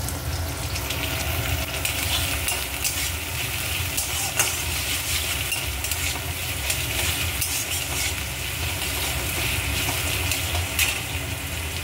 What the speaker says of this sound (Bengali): এইবার আমি এই তেলের মধ্যে কেটে রাখা পেঁয়াজগুলো